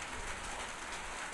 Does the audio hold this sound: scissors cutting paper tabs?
no